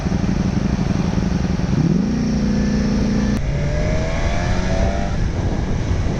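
A new superbike cruises on an open highway with a steady loud engine and wind roar. The engine note rises smoothly partway through as the rider speeds up, and another vehicle's tone briefly sweeps past.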